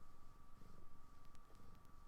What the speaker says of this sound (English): That's what happens when I pet my cat,